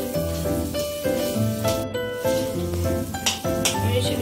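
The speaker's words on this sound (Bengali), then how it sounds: "মশলার সমেত আলুটা ভেজে নেব ভালো করে।" Potatoes fry with spices in a pan, a steady close sizzle broken by repeated stirring scrapes and light clinks of a utensil against the cookware, with no talking.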